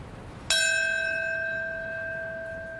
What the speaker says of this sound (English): Then a bell, marking the minute the first plane struck the World Trade Center.